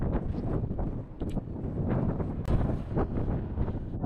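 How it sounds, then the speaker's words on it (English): Steady headwind buffeting the microphone while bikepacking on a high mountain pass, a continuous low rumbling roar with gusty swells and no voices. "The wind started early today, a headwind blowing right at me."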